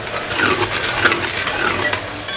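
Soaked rice stir-fried in a pan for a Punjabi bagocha, giving a steady close sizzle and frying hiss with scraping stirring strokes throughout, no voices.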